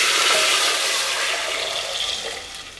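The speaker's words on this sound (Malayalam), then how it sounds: "ആ വെള്ളം നമുക്ക് ഈ കുക്കറിലേക്ക് ഒഴിച്ചു കൊടുക്കാം" Water is poured from a cup into a pressure cooker while coconut rice is being made, a loud, steady rushing splash that tapers off slightly near the end.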